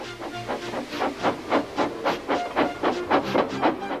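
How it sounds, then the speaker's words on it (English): Steam hisses and chuffs in rapid rhythmic bursts, loud and close, like a steam locomotive puffing as it gets moving. "with much noise and blowing of steam, got ready to back onto the train."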